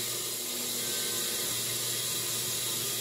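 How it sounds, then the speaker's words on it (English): A solar-powered off-grid washing machine takes in water from a tap, a constant loud rushing flow with a low mechanical hum underneath, with no pauses. "It's taking water now"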